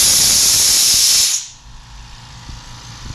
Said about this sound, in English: let me let out some air on here so you can hear the Fortress on